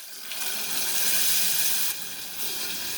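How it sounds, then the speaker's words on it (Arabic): Two cups of tomato juice, blended smooth, are poured into a cooking pot, giving a steady liquid pouring rush that swells and holds for a few seconds with no talking. "وانزل بكوبايتين اللي هما عصير الطماطم المضروبين بالخلاط"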